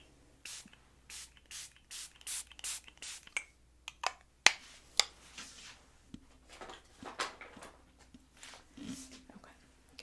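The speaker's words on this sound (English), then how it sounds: "I'm going to give you a nice spritz." Holy Hydration Coconut Mist face spray is spritzed close up in a quick series of soft, hissing pumps, repeated rhythmically, with quiet whispered talk in between.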